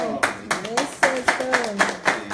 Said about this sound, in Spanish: Bravo, un aplauso.